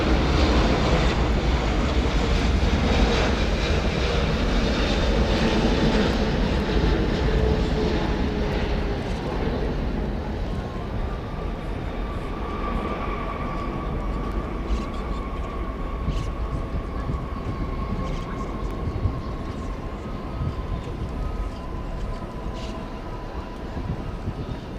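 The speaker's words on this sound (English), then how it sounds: "So there's Flight 81 touching down after 9 hours and 21 minutes." American Airlines long-haul jet from London touching down at night at Dallas Fort Worth, a loud jet roar that fades after the first seconds into a lower rumble with a drawn-out whining engine tone, with some wind buffeting.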